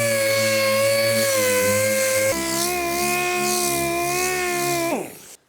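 Sanding old paint on a budget LS-swapped S10 pickup with 80 grit sandpaper on a power sander, a steady loud mechanical whine that shifts pitch midway and cuts off near the end.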